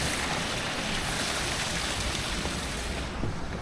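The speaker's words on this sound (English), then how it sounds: "if all that water is pouring down, where's it coming from?" Water pours down the slope of Mount Royal, a steady, dense rushing wash that stays loud and unbroken throughout, with no voices.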